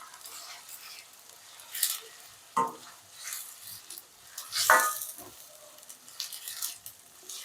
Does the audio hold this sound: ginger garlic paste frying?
yes